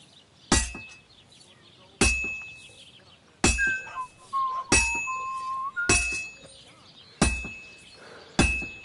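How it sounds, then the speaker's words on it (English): A sword is struck with a hammer on an anvil at a blacksmith in the Kingdom Come Deliverance video game, seven sharp metallic clangs spaced about a second and a half apart, each ringing briefly, with faint tonal game sounds between strikes. "Now take the hammer and try hitting it a few times."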